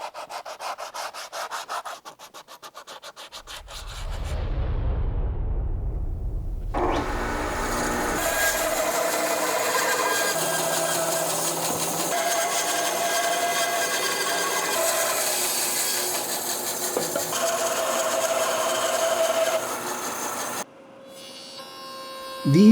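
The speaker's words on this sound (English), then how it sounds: "now I'm just spending time sanding everything to get it smoothed out" Wood being sanded by hand, with a rapid rhythmic rubbing stroke at first, then a long continuous abrasive scrubbing that fills most of the clip and cuts off abruptly near the end.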